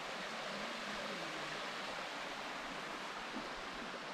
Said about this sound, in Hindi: पानी की आवाज़ है, ये बांध बना है